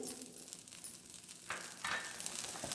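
A handful of salt roasting in a dry pan for sambar podi, a soft continuous sizzle and scratchy stirring that grows louder and rougher partway through.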